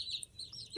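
Colourful laying hens give a few brief, soft clucks close by, short and quiet with light chirpy tones.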